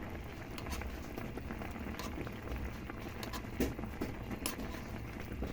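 Tilapia paksiw broth simmering in a pot, a steady low bubbling and popping texture throughout with a few brighter pops, close and moderately faint, no voices.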